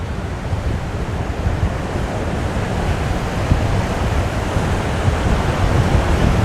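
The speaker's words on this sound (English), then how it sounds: "look at those waves" Heavy ocean surf at Haulover Inlet produces a loud, continuous roar of breaking waves mixed with strong wind buffeting the microphone, rising slightly toward the end.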